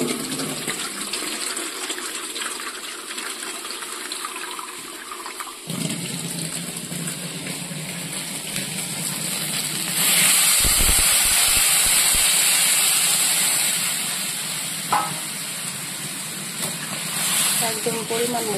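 Water poured into a pan of sizzling vegetable curry, a steady loud hiss and rush that swells midway then fades, with a voice talking over it.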